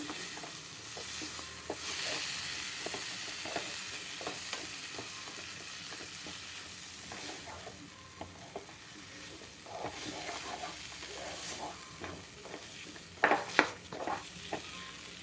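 Prawns frying in a pan for a prawn masala, a soft steady sizzle with repeated scrapes and taps of a spoon stirring, fairly quiet and close.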